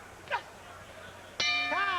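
A boxing round-end bell rings once with a bright metallic clang that rings on and fades slowly, following a softer brief sound, with a faint voice in the background.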